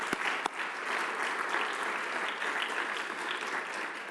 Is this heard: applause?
yes